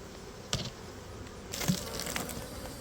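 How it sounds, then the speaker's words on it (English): Bees buzz steadily around a see-through glass hive at dusk, with a couple of sharp crackling bursts rising above the continuous hum. "The bees are everywhere all over me because it's getting dark out"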